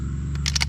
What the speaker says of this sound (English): If you want to hold the bolt open, pull it back, you push up on this pin